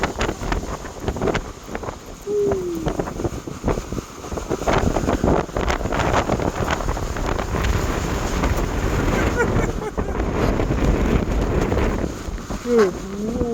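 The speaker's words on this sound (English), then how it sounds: "You can just hear the wind coming up the mountain." Strong gusts of wind coming up a mountain at Colorado National Monument buffet the microphone steadily, a roaring rush with brief voices heard faintly beneath.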